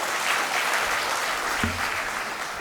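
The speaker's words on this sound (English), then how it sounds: "Applause for the students, please" A crowd at the ICAR-NAARM Foundation Day celebration applauds students after a song, a loud, continuous roar of clapping close by with a short thump partway through.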